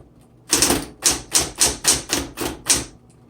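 Rapid keystrokes on a 1960s Smith Corona Electra 120 electric typewriter, about eight crisp clacks in a steady rhythm, close and fairly loud with no voices.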